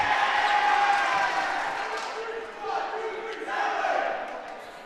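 Indoor crowd at a junior varsity high school volleyball match between Saint Ignatius and St. Edward roars and cheers steadily, a loud continuous swell that dips briefly and rises again.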